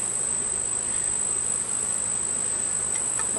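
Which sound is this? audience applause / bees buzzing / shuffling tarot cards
bees buzzing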